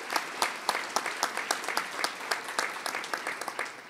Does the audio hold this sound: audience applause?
yes